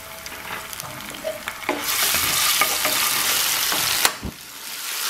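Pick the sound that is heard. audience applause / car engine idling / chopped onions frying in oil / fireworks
chopped onions frying in oil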